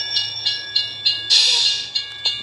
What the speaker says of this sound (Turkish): Tren gelecekmiş.